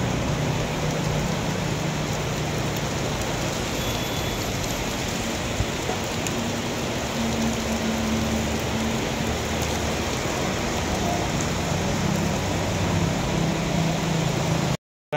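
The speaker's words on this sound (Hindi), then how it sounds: "बाहर चल रही है बारिश हो रही है बड़ी तेज और बिजली भी कड़क रही है" Heavy rain pours steadily outdoors during a thunderstorm, a dense, even wash of hiss close to the microphone that runs unbroken for the whole stretch before cutting off abruptly at the end.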